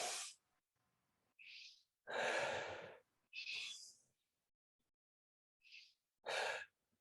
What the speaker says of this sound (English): It's just 2 breaths in,